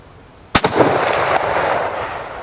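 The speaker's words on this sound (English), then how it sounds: "So this is a 98 pattern Mauser in 8mm. Let's send it around at this downrange." A single loud shot from an 8mm Mauser 98 pattern rifle, a sharp close blast followed by a long rumbling echo rolling off downrange.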